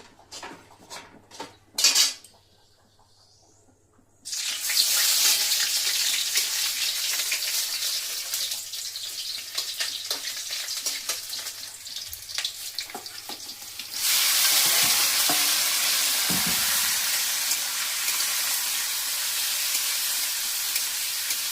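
Chicken frying in a kadai wok, a loud, steady sizzle with metal utensils clinking and scraping as it is stirred. Scattered clatter comes first, and the sizzle grows louder partway through.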